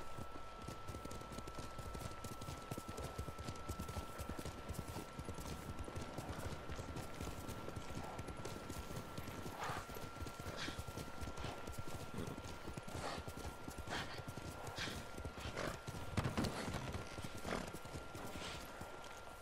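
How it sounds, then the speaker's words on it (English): Horse hooves clip-clop in a steady rhythm during riding in Ghost of Tsushima, fairly soft, with an occasional whinny over a continuous game ambience. "look at her riding that horse"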